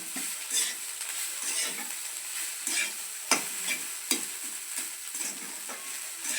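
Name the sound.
stirring flattened rice (chire) in a frying pan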